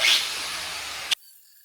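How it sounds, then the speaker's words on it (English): A spongy abrasive disc grinds mill scale off steel in one steady, loud, hissing pass that stops abruptly near the end, leaving only faint background hum. "these spongy abrasive discs do a phenomenal job at getting mill scale off"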